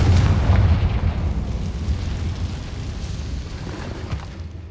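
A Confringo fire spell cast in Hogwarts Legacy bursts with a heavy explosive roar that is loudest at the start and then settles into a rumbling, crackling burn that slowly fades, loud and close with no speech.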